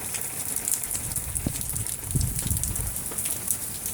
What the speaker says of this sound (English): Rain still. Rain.